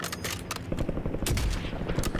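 Dense gunfire in the video game Warzone, a loud burst of rapid automatic shots and impacts that fills the whole moment, with no talking.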